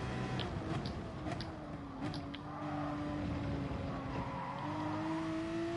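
Race cars in the Gran Turismo Sport video game, with a steady rising engine drone running throughout alongside brief tyre squeals and clicks, loud and continuous with no talk.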